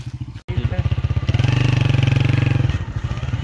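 A motorcycle on a rough forest track, its engine loud and close with a fast throbbing pulse that rises briefly as it revs, after a short cut at the start.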